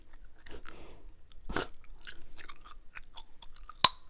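Gum is chewed close to the mic with soft, wet, sticky smacks and clicks in an irregular rhythm, with one sharper snap near the end.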